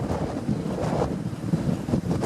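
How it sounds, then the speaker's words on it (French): Storm waves break and surge onto a beach in strong wind as the sea pushes inland toward nearby houses, a loud, continuous roar of wind buffeting the microphone over rolling surf. "C'est énorme, les vagues qui déferlent."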